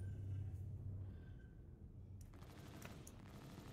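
Ship weapons fire in the Star Citizen space game, a faint rumbling rattle of distant shots with a sharper burst partway through.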